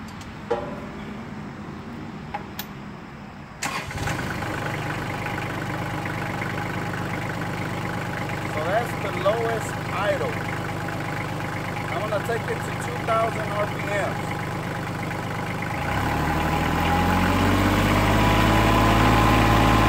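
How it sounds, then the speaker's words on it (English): A Kubota L3700SU tractor engine cranks and catches, then settles into a steady, loud idle with a deep rumble that grows heavier toward the end. "I'm gonna go ahead and start this tractor so you can hear."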